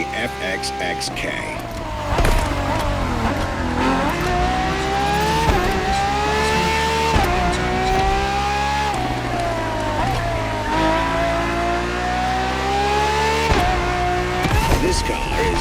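A Ferrari FXX-K race car in the video game The Crew Motorfest revs hard through repeated rising gear pulls, each ending in a shift, with a loud engine note that stays strong throughout and a voice talking over it.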